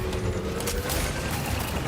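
Dense, continuous gunfire from the video game Death Stranding 2, a loud sustained burst of shots with mechanical clatter filling the whole moment without pause.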